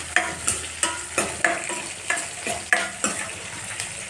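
Chopped onion and two dried red chillies fry in a pan for sambar, a continuous sizzle broken by regular spatula scrapes about every third of a second, close and clear.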